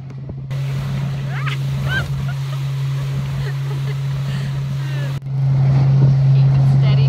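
A motorboat water taxi heads out toward Playa Zancudos in Costa Rica, its outboard engine humming steadily and loud close by, with wind buffeting the microphone and water splashing against the hull, the engine growing louder toward the end.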